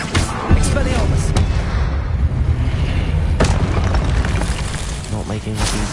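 Expelliarmus and other combat spells cast in Hogwarts Legacy fill the space with a loud, continuous booming roar, with sharper bursts breaking through on top.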